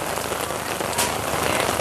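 Heavy rain pours down at an open-air buffalo market in Roi Et, Thailand, a dense, steady hiss of drops drumming on surfaces, close and continuous.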